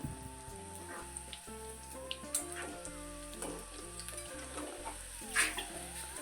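Pakoda fritters frying in hot oil, a soft, continuous bubbling sizzle with a few stirring taps, heard close under quiet background music.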